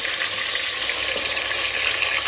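Mutton sizzles hard in a pot with bay leaves just after it goes in: a loud, steady, broadband hiss of hot fat, close up and even throughout, with no talking.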